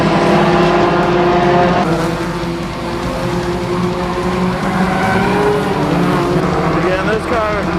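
Race car engines roar continuously in a night endurance race in a video game, several cars droning together with a shifting pitch toward the end, while a commentator talks over them.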